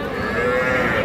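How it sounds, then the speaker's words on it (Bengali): A young bull calf at a cattle market gives one loud, close, sustained moo that holds steady for about a second. "এই যে এটা ষাঁড় বাছুর একটা"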